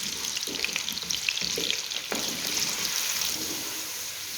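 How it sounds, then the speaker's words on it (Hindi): Potatoes frying hard in a karahi over a high flame give a continuous bright sizzle with occasional clinks and scrapes of stirring, close and steady throughout. "तकरीबन 5 से 7 मिनट तक इसी तरह हाई फ्लेम पर हम आलूओं को अच्छी तरह फ्राई कर लेंगे"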